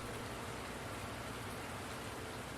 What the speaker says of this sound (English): As soon as the rain stops, we'll be able to go through and ted it.